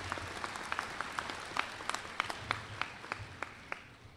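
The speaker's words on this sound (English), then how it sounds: "Please give them a round of applause." Audience at a spring university commencement ceremony gives a sparse, faint round of applause, with scattered individual claps spaced irregularly over a low background murmur.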